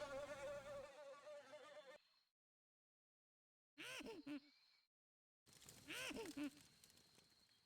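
Bees in a PlayStation video game buzz in short, close bursts, cutting in and out with silent gaps between the whining drones.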